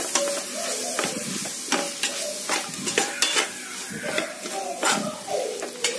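Ginger garlic paste being stirred into country chicken in a pot for dum biryani, with repeated scraping strokes of a spoon over a steady sizzle, fairly close and continuous without talk.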